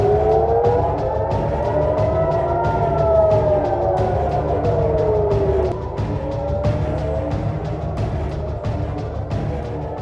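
Air raid sirens wail across Israel, loud and sustained with slowly rising and falling tones layered over a constant rumble, no talk.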